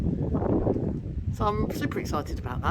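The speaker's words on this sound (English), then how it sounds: "Sorry about the wind." Gusty wind buffets the microphone outdoors, a low rumbling roar under a person's speech that swells and eases throughout.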